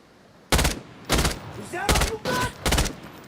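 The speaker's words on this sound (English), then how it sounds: "he's going to start shooting me now, of course" Five loud, sharp bursts of gunfire from a survival looting video game, spaced roughly half a second to a second apart, each one a short, broadband crack standing alone against a quiet background.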